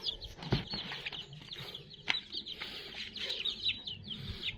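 Hens and chicks on a poultry farm cluck and cheep in a busy, overlapping chorus, with occasional louder clucks up close and faint high peeps from young birds in the background.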